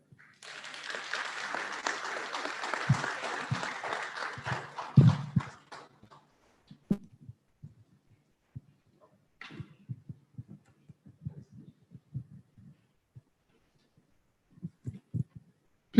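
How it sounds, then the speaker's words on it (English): Audience applause at an agri-tech entrepreneurship awards ceremony, moderate and sustained for about five seconds before tapering into scattered faint claps and handling knocks. "Please keep the applause going"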